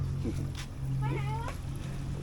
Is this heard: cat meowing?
yes